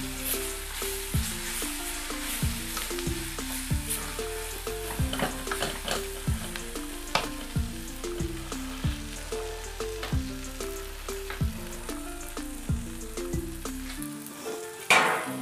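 Egg and potato gravy sautéing in a pan gives a continuous close sizzle under frequent scraping and clinking stirring strokes, fairly loud throughout. No one speaks.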